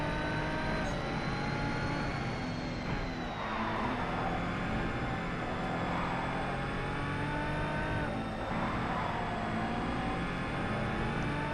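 A race car engine in the video game GRID revving hard and steadily, a loud continuous high-pitched whine rising and dipping with throttle changes, with brief tyre squeal, no talk.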